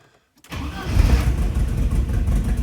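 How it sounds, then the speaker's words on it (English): A key turns and the engine of a Porsche 928 or a Mini catches after a brief silence, roaring into a loud, rough idle that holds steady close by, indoors in a garage. "Look at that, it starts right up."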